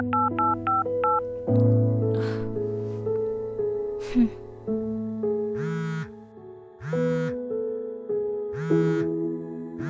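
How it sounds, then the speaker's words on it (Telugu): A phone call is placed: a quick run of keypad dialing beeps, then repeating ringback tones pulse steadily while music plays underneath, clear and close with no talking. "నీకు లాస్ట్ అండ్ ఫైనల్గా కాల్ చేస్తున్నాను."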